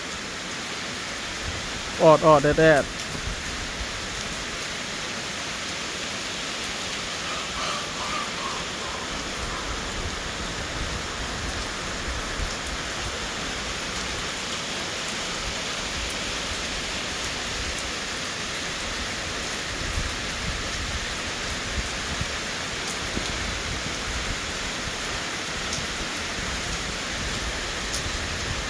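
Heavy daytime rain pours down in a steady, dense hiss that holds evenly throughout, with a brief spoken voice near the start and no letup in the downpour.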